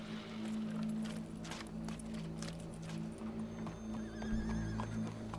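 Horse in Red Dead Redemption 2 clip-clops and snorts with a brief whinny, hooves plodding steadily over a low game hum and ambient background.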